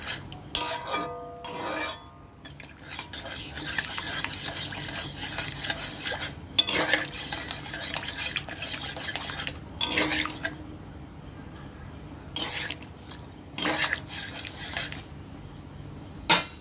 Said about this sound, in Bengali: এরকমভাবে ঘেটে ঘেটে দেবো যাতে ডালটা ঘন হয় আর এই ছোলাটা গোটা গোটা না হয়ে থাকে